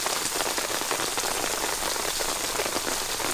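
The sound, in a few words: heavy rain falling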